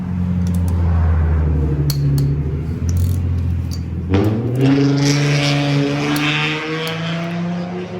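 Loud engines of Honda Civics rev nearby, pitch climbing and falling in waves, with a second car surging in midway and holding a strong, rising drone.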